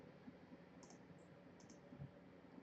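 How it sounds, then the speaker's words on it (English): Faint, sparse clicks from computer keyboard keys being pressed while operating embroidery digitizing software, a few soft isolated taps over a quiet background hiss. "When I press 1 on the keyboard, it goes to normal."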